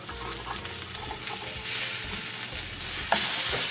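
A homemade burger patty sizzles loudly in a hot pan, the frying hiss swelling as it is flipped and stirred about, close and continuous with no voices.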